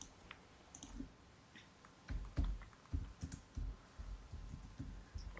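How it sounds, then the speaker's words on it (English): Quiet, close typing on a computer keyboard, a quick irregular patter of clicking keys in several bursts with brief pauses between them. "One sec, I'll type on."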